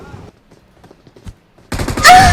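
Gunfire in BGMI (PUBG) during a close-range squad fight: after a quiet stretch with faint scattered ticks, a sudden loud burst of rapid shots erupts near the end and stays dense and intense to the close.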